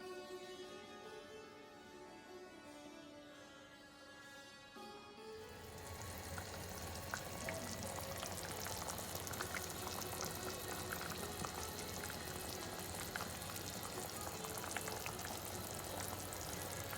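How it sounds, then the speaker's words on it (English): Pumpkin pieces simmering in water with brown sugar in a pan, a steady bubbling sizzle that grows louder and busier after the first few seconds and stays close and continuous. "I'm going to add a little bit of water, extra water, and let it cook fully now."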